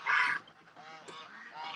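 Geese honking at dusk near ducks, a few close, loud nasal honks at the start and end with softer calls between, no talking.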